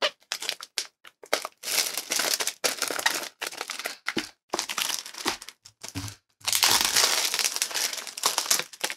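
Plastic shrink-wrap is torn and crinkled off a sealed Superman comic omnibus, close-up bursts of ripping and crackling in uneven spurts with short pauses between them.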